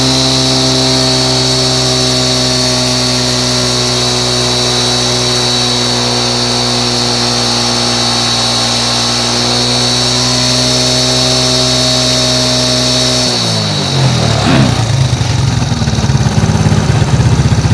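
A motorcycle engine runs steadily at high revs with a strong, even hum, then drops sharply to a rougher, lower idle toward the end.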